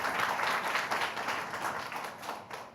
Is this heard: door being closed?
no